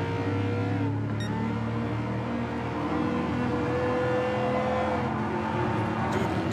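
Ford F-150 Raptor truck engine in a driving game, a steady loud drone with rising revs and a whirring tone throughout, no talk over it.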